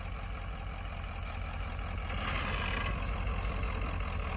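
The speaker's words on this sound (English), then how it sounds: "just back up 10 feet and slam on the brake" A farm truck with a swapped cab idles and rumbles steadily at close range, its heavy low engine note growing slightly louder as it backs up, with no clear hard stop standing out.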